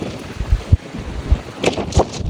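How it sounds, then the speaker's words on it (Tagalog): Strong gusts sweep across an empty rooftop deck by a jacuzzi, buffeting the microphone with loud irregular rumbles and thumps, with a brighter rushing swell toward the end. "Lakas lang na hangin sobra."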